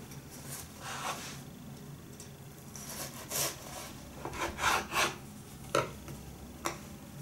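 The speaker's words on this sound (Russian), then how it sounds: "Сейчас я отрежу кусочек, просто показать тебе, зритель, какой он изнутри." Knife sawing through a slice of homemade pumpkin cake in a home kitchen, a few soft scraping and rubbing strokes with small knocks, close and fairly quiet, no talking.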